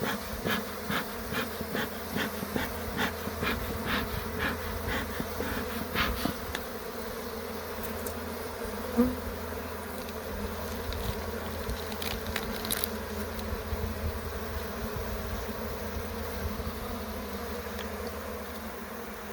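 Honey bees swarm in a dense, steady buzz from an opened hive during a mite inspection, close and continuous throughout, with a few sharper clicks and knocks of hive handling early on.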